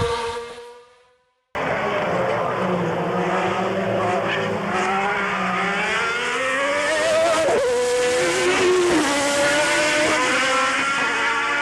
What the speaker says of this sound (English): the Lamborghini V12 sounded great